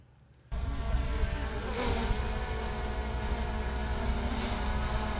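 A drone's propellers start abruptly and hold a steady, loud, close buzzing whine, with a slight rise in pitch partway through and no talking.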